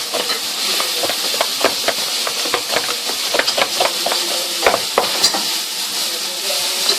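Pizza dough ingredients being mixed together in a bowl: a steady close scraping and stirring texture broken by frequent small clicks and taps, with no voices.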